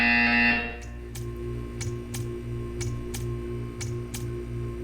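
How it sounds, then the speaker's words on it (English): In Portal 2, after a loud tone cuts off, a buzzer-like electronic tick pulses at an even rhythm about every half second over a low steady hum, alone with no talk. "You will hear a buzzer."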